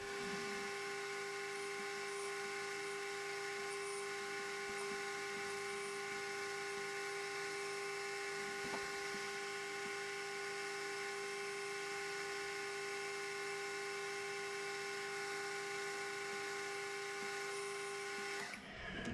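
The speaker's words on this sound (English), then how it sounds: "Just got to chamfer that edge and part it off." A metal lathe chamfers and parts off a yoke during a John Deere differential repair, giving a steady, fairly quiet tonal machine whine that runs unbroken for the whole stretch before cutting off at the end.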